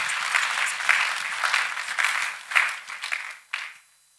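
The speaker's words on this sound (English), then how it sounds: "clap your hands for Jesus Christ" A worship congregation claps and applauds for Jesus Christ, a lively burst of clapping that swells in waves, then thins into a few scattered claps and fades out.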